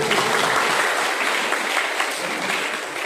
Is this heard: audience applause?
yes